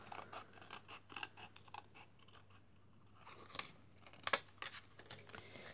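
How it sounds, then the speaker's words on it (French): Scissors cut out a paper birthday card, giving a quiet, close series of crisp snips and rustles with a sharper crunch near the end. "On va venir couper."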